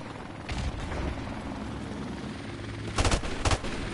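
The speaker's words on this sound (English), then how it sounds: "Friendly helicopter on the way!" Helicopter rotor in Modern Warfare Remastered multiplayer, a steady loud churning hum throughout, with sharp bursts of gunfire breaking in near the end.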